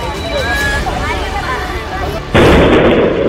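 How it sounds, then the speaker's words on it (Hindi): An oxygen cylinder explodes with a sudden loud blast after a stretch of crowd noise and voices, followed by a sustained roaring burst of broadband noise as a fireball forms. "ऑक्सीजन सिलेंडर फटता है और उसके बाद आग का बड़ा सा गोला बन जाता है।"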